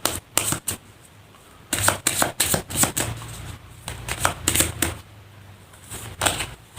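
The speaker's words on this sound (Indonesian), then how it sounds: "Saya shuffle terlebih dahulu." Tarot cards are shuffled by hand in crisp, rapid bursts of riffling and slapping, close and fairly quiet, separated by short pauses with no voices.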